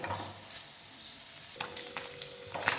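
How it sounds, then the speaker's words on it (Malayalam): Pieces of pork fat melt over a medium flame in a pan, giving a soft, steady sizzle with a few light clicks and scrapes. The sound is faint and close, with no voices. "നമ്മളിവിടെ നെയ്യുടെ കഷ്ണം ഉരുക്കാൻ വെച്ചിട്ട് ഇവിടെ കുറേശ്ശെ ഉരുകി തുടങ്ങിയിട്ടുണ്ട്"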